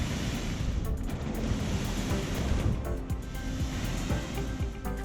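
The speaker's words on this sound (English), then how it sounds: "Yeah, that sounds like the ocean is breathing." Ocean waves wash onto the Adriatic shore near Split, a steady roaring surf with wind buffeting the microphone, continuous and fairly close.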